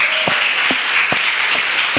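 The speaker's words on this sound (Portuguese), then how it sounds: "Vamos dar uma salva de palmas para o Senhor" Congregation applause at a Baptist church service, a dense, steady wash of many hands clapping close by, with a few louder individual claps standing out at a regular rhythm through the brief burst.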